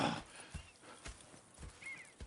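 Horse hooves clop in an uneven rhythm with a brief whinny, fairly quiet with a game-like sound.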